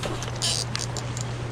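Rain patters steadily on a river during a bowfishing outing on the Coosa River, a fine scattered ticking with brief louder bursts of splashing over a constant low hum, close by and with no talk.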